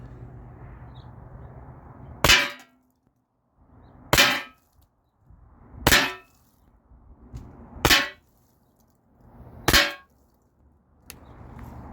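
Aluminum balls from a Byrna SD launcher striking an aluminum panel about 12 feet away, five sharp metallic clangs spaced roughly two seconds apart with a faint sixth tap, each ringing briefly over quiet outdoor background.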